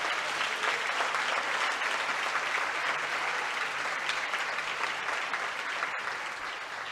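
A church congregation applauds, a broad, steady wash of clapping from many hands that holds for several seconds, then eases slightly toward the end.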